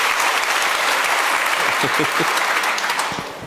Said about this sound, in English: Clap if you think Airbnb has the tougher challenge.